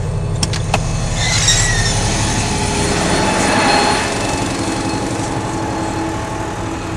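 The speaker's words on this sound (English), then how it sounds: "So I'm going to turn my PTO on, turn the pump on, let that agitate while we're loading." A tractor's PTO drives a pump agitating a tank during loading, producing a loud, continuous mechanical drone and rumble with a few brief clanks near the start, steady and close, with no talking.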